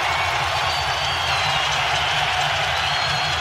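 A packed NBA Finals arena crowd roars loudly and steadily after a layup, a dense wall of cheering and noise filling the space without pause.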